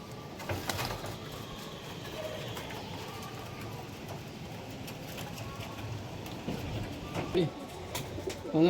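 Soft cooing of flying and breeding pigeons kept in a loft in Nabadwip, low murmuring calls in the background under someone talking nearby, with a few light knocks.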